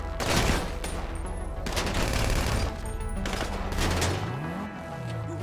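Gunfire from GTA Online rattles in dense, continuous bursts, loud and close, with a low engine-like drone and shifting rumble underneath throughout.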